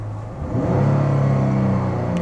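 Dodge Charger SE with a 3.6 V6 engine, heard from inside the car as it starts up. A low rumble swells after a brief crank, then settles into a steady, moderately loud idle drone.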